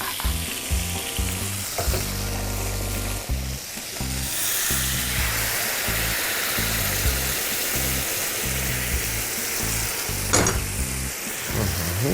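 Mushrooms in their sauce cook in a hot pan with a loud, continuous bubbling sizzle, close up, joined by stirring scrapes and a brief clatter near the start and again toward the end.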